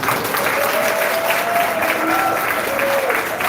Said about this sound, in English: Give Dr. Blake another round of applause.